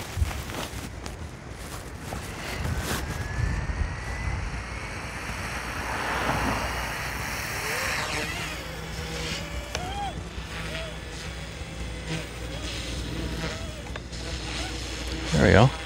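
An OMPHOBBY M1 EVO RC helicopter rotor spinning up, a steady whirring drone whose pitch climbs and wavers, heard close with outdoor wind noise.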